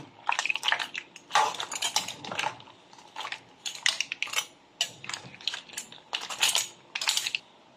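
Shrimp and squid are stirred in a pan, producing a string of sharp, irregular clicks and clacks from the utensil against the metal, fairly faint with brief pauses between bursts.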